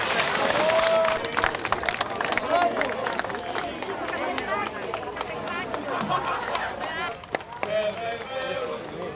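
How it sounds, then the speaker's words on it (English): An outdoor crowd cheers, claps and chatters loudly and continuously at a Greek Orthodox cross retrieval in Canberra as a 17-year-old youth holds the recovered icon aloft, with voices mixed into the roar. "17-year-old Costa Kathaklakis holding the icon aloft to cheers from the crowd."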